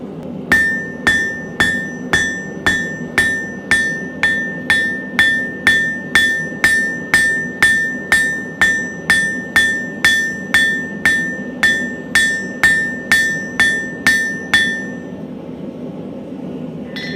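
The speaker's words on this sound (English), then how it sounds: "heat up the other side, and do some more of that initial flattening" Hammer blows ring out steadily on hot metal being flattened for a Viking bracelet, about thirty evenly spaced metallic strikes with a bright anvil ring, close and loud, stopping near the end.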